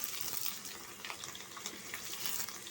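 Bottle gourd sautéing in a pan with onion, green chilli and cumin, giving a steady close crackle and sizzle throughout with light scraping, no voices.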